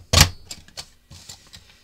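A paper trimmer cuts through card stock: one sharp, loud snap of the blade, then a few lighter clicks and taps close by.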